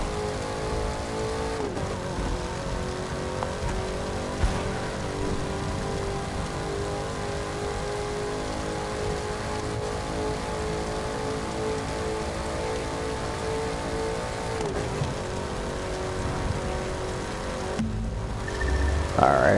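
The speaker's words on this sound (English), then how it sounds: "So let's see what we can top out now in the Ford Mustang GT." A Ford Mustang GT racing in The Crew 2 holds a steady, loud, high engine drone for a long stretch at top speed, with brief shifts in pitch and a rushing hiss of wind and road.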